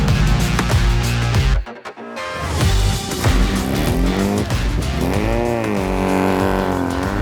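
Vintage, mostly pre-war race cars charge up the Wilbraham hill climb. Loud, close engines roar and rev continuously, with one brief drop-off, then rising revs as a car climbs.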